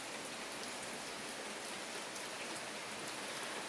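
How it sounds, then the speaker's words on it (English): Steady rain falls across a front garden with a vertical planter, a dense even hiss of drops hitting surfaces that holds constant and close throughout, with no voices. "There is the rain."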